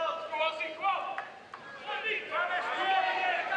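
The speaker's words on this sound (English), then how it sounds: "The Aussies in the crowd announcing themselves." Australian fans in a Wimbledon tennis crowd cheer and chant at night. Several raised, sustained voices call out together over a low murmur, loud and lively, with no other clear sound.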